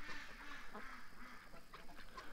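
A flock of farm ducks quacks at feeding time near dusk, with several soft, overlapping quacks in quick succession, fairly faint and distant.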